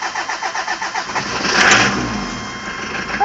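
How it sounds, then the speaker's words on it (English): A diesel-swapped Chevrolet S-10 4x4 engine with a c223 diesel cranks over on a cold start, then catches and settles into a rough, clattering idle, close and fairly loud, with no voices. "This has never been started today, so this is a complete cold start."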